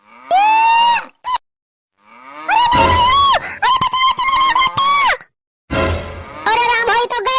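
A buffalo is being chased away with loud, drawn-out lowing calls, interleaved with shouting voices close by.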